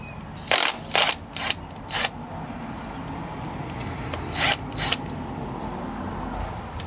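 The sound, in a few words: wrench loosening 10mm valve cover bolts on Celica engine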